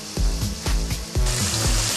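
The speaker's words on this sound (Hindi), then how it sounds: "अच्छे से फ्राई करने के बाद अब इसके अंदर मैं ये चिकन डाल दूंगी" Chicken frying in masala in a pan gives a loud, close sizzle broken by several sharp knocks and scrapes of stirring, a few uneven beats across the two seconds, with no voices.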